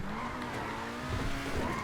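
A Pegassi Reaper supercar drives hard in GTA 5 Online, a steady engine drone with tires squealing and skidding throughout, loud and close without pause.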